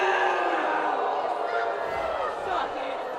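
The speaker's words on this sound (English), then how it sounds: "That's about as mad as our crowd gets." Football crowd at a Venice High versus Port Charlotte High game letting out a sustained, angry roar over a penalty call, dense and continuous for a few seconds, slightly easing toward the end.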